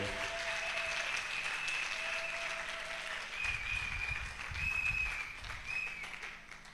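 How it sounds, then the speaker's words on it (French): Congregation applause at a morning intercession prayer service in Brazzaville, a steady, fairly faint wash of clapping with some sustained tones and low rumbling underneath. "Nous acclamons très fort la parole."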